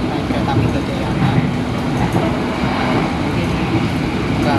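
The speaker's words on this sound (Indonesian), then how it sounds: "untuk perjalanan saya naik kereta api Gajayana" A Gajayana passenger train running on the rails, heard from inside the carriage as a continuous loud rumble with faint rhythmic rail clatter throughout.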